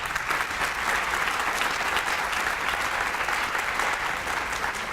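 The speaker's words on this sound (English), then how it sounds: "Let's give him another big round of applause" An audience claps steadily after a presentation at a community event in Northern Manhattan, an even wash of applause from a sizable crowd, fairly soft and continuous throughout with no speech on top.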